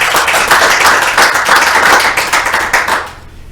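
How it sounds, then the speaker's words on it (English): Loud, close audience applause at a UNESCO Creative Cities Network event honoring Anita Dixon, dense rapid clapping that holds steady for about three seconds before quickly fading out. "Can we get a round of applause for Anita Dixon?"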